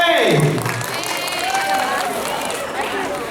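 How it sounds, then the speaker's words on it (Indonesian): An audience applauds at an award announcement for a city kethoprak theatre festival in Yogyakarta, a brief burst of clapping that fades while a voice speaks over it. "Sekali lagi kita berikan tepuk tangannya yang meriah untuk Kementerian Kota Gede."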